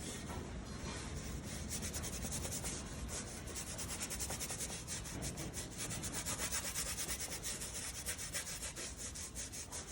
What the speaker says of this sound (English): you can rub that in with your fingers